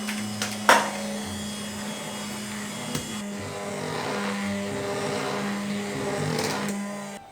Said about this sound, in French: On va mixer, mixeur plongeant, ou blender.